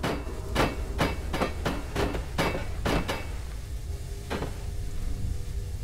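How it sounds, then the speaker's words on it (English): Metal valve being bashed in Amnesia: The Dark Descent, a series of about eight loud clanking hammer-like strikes in an irregular rhythm over a low rumbling background, then a final hit after a pause. "Or maybe I just bash this thing in."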